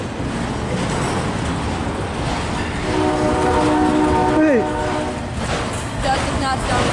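A long Norfolk Southern freight train rumbles past at close range in Fostoria, Ohio, its continuous rolling roar joined midway by a loud sustained horn blast that bends down in pitch as it ends.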